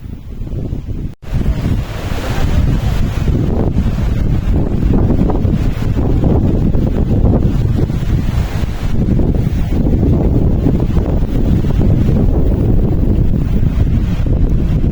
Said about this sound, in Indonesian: Debu lebih banyak di sini dan angin tidak mau kalah hebat.